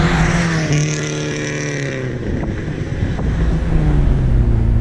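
A 1967 Ford Lotus Cortina Mk2 engine drones loudly, its pitch dropping and then settling again as the clutch is pressed and gears change, with wind rushing over the microphone.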